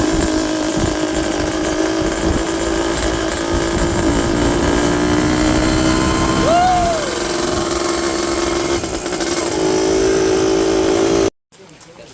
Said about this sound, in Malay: baru restore balik lah motor retro Suzuki TS100